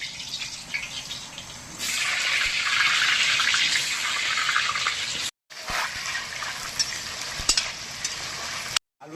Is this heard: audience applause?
no